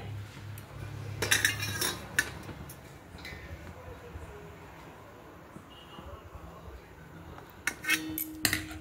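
Metal steamer sieve lifted out of a cooking pot after steaming kothimbir vadi, giving a few sharp clinks and clatters of metal near the start and end with quieter kitchen rustling between.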